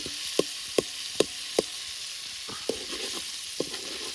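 Butter melts in a pan under a steady sizzle while a spoon stirs it, tapping the pan in a quick regular rhythm and then in looser knocks.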